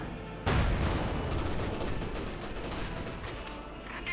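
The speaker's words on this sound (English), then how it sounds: "Machine guns and high explosive rounds." Battle sounds from the Company of Heroes 2 video game, with machine gun fire and high-explosive rounds: a sudden loud blast opens a dense, continuous rumble of distant gunfire and explosions.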